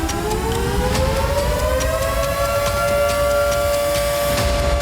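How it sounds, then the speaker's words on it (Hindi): A steady wailing air raid siren in Kyiv with slowly shifting pitch, loud and continuous over a rumbling background. "फिर कीव में खतरे का सायरन गूंजने लगा।"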